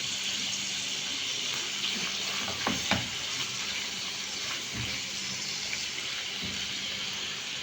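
Chicken pieces seasoned with black pepper, turmeric and salt sear in a hot pan, giving a steady, close frying sizzle with a few louder crackles and stirring knocks, no talking.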